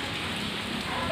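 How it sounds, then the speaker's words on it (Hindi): Steady rain falls at night as a dense, even hiss of drops on surfaces, heard close and alone for a brief moment. "बारिश भी ठीक ठाक ही हो रही है"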